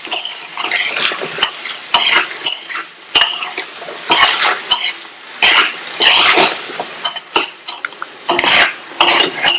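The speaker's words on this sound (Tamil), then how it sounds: "நல்லா மிக்ஸ் பண்ணி விட்டாச்சு." A spoon stirs a potato fry with chilli powder, asafoetida and salt in a pan, giving repeated loud scraping and clinking strokes over a light sizzle, with no voices.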